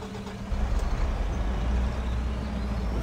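Semi truck in the SpinTires off-road driving game, its diesel engine catching with a short hiss and then settling into a deep, close rumble that holds steady and loud.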